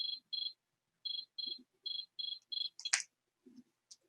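A cricket chirps in short regular bursts, about eight close, clear pulses, with a couple of soft clicks and brief rustles between them and near the end.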